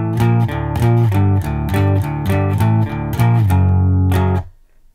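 An electric guitar plays the pre-chorus riff of a song, a loud distorted rhythm of repeated chugging chords with strummed upstrokes, ending in a held chord that cuts off near the end.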